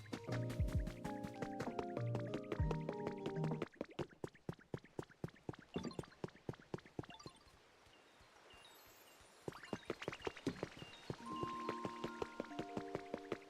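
A water wheel in the Pokémon video game Pokopia sets up a rapid, regular run of dripping, splashing clicks, with a brief lull midway and soft musical tones layered over it.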